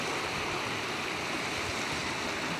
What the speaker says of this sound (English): So I found the source of the water noise that I was telling you about.